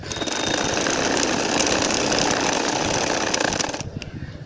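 A sewing machine stitches a nakshi kantha quilt, a rapid continuous mechanical whirring and clatter up close that stops abruptly near the end, leaving faint handling sounds.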